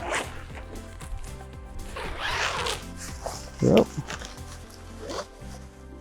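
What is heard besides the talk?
zipping up Six Moon Designs Lunar Solo tent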